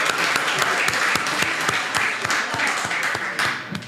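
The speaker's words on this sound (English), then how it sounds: "Let's give them a round of applause." Audience applause for conference panelists, a steady wash of many hands clapping with sharp individual claps standing out, sustained at even volume throughout.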